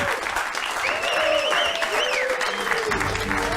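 An audience in a magic theater applauds steadily for a performer, a continuous wash of clapping with a voice talking over it.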